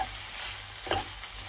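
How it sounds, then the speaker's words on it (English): Rice being stirred and fried in a hot pan gives a steady, close sizzle with a brief scraping stir near the middle; nobody speaks. "you're going to want to cook the rice until it's like kind of like dry"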